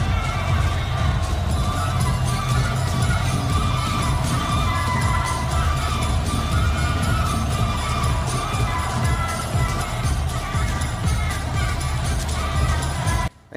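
Dense stadium crowd of fans roaring and cheering at a football opening ceremony in Oran, Algeria, a steady loud wall of voices with music in the mix, continuous throughout.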